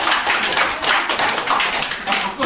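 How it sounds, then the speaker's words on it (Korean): Clapping at a Buddhist lecture, a dense run of hand claps from an audience in a hall, fairly loud and continuous throughout. "박수 들어간 거 아닙니까?"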